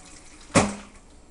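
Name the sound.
pouring slow cooker pork juice through a strainer into a pan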